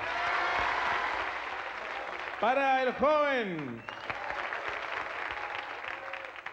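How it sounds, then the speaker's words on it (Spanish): Studio audience applause on a TV singing-contest variety show rolls steadily through the whole stretch, while a host's voice speaks loudly over it in the middle. "Aplausos para la primera señorita"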